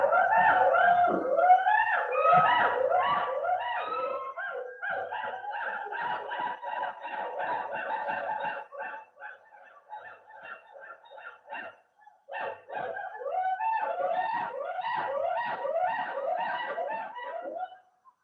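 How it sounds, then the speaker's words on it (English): Gibbons (Hylobates) howl in a loud, continuous chorus of rising, whooping calls that overlap and pulse rhythmically, close and dense for most of the stretch, thinning briefly near the middle before swelling again. "This is the howling of gibbons, Hylobates coda."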